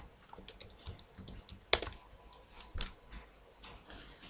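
Keys on a computer keyboard clatter in quick irregular bursts with one sharper press, close and fairly quiet, with no voices over them.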